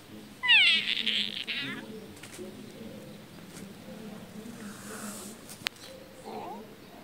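A cartoon cat in the video game Pazu Avatar World lets out a loud, high meow near the start, followed later by a softer, shorter mew over quiet background sound.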